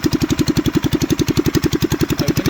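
A kids' Chinese ATV, converted to a Predator 212 engine and running with an open exhaust, idles close by with a steady, even, rapid thumping pulse throughout.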